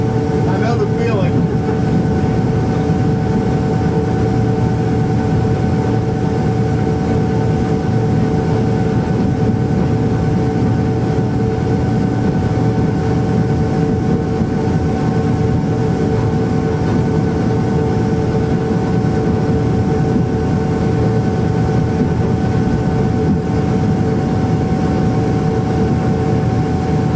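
A constant loud engine drone with steady humming tones fills a train cab on the Springfield to Cincinnati run throughout, with people talking over it.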